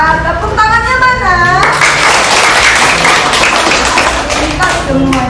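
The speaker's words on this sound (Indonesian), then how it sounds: "Tepuk tangannya mana?" A crowd at a community gathering in an Indonesian village claps loudly and steadily for several seconds, a dense wash of hands with a voice talking over the start and children's voices mixed in.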